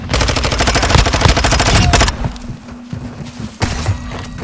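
Rapid automatic gunfire in Call of Duty Modern Warfare 2 during a Hardpoint match, a loud close burst of fast-repeating shots that cuts off abruptly, followed by quieter scattered impacts and a single sharp shot near the end.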